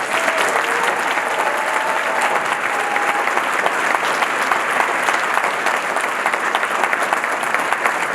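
A school concert audience gives middle school band students a round of applause, dense, even clapping sustained throughout at close range with no speech.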